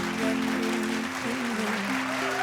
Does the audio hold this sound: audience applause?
yes